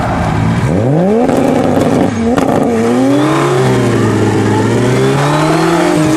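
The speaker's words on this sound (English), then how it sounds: "The impressive thing about these burnouts are the fact that they start at about 40 miles an hour." A black Toyota Supra does a rolling burnout, its engine revving up in rising sweeps and then holding a loud, sustained high-rpm roar, with tire noise mixed in. It is close and dominant, with no talk over it.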